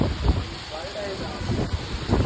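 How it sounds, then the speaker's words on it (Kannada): Strong wind roars steadily across the microphone in a continuous rushing buffet, with faint voices underneath. "ನಾನು ಹೇಳ್ತಾ ಗಾಳಿ ಜಾಸ್ತಿ ಬರ್ತಾ ಇದೆ"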